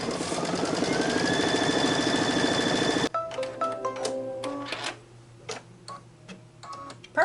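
An embroidery machine stitching the face of a Kimberbell bunny runs with a loud, fast, steady mechanical whir, then breaks into quieter irregular clicks and tonal beeps.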